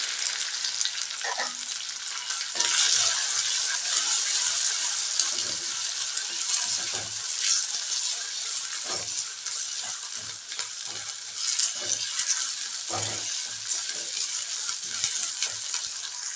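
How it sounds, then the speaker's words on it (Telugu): Thin onion slices sizzle steadily in hot oil while yam curry cooks, a continuous bright frying hiss with occasional soft stirring knocks, close and fairly loud, with no talking. "ఇప్పుడు సన్నగా కలుపుకున్న ఉల్లిపాయ ముక్కలు కూడా వేసుకుందాం"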